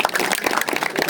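Applause from an audience at an agricultural talk on seed spices, a short burst of dense hand clapping, loud and unbroken, with a faint trace of voices underneath.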